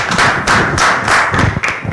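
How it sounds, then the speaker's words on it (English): A church congregation claps at a service, loud and close, in a few uneven heavy bursts with thuds between them. "Let us clap for it."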